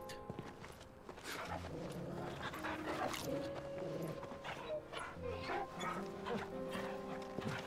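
A dog in the video game Final Fantasy XVI yips, pants and whimpers close by in short repeated bursts, with voices talking over it.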